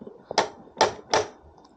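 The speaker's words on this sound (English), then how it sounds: "This is door knocker." An old metal door knocker on a traditional Chinese courtyard gate strikes three loud, evenly spaced knocks, each a sharp metallic clack with a short ring.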